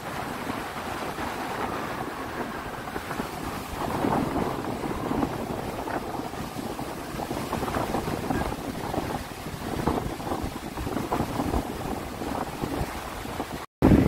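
Sea waves wash in steadily at Edward Elliot Beach by the Ashtalakshmi temple on the shore, a continuous broad surf roar mixed with gusting wind buffeting the microphone, ending in a sudden cut.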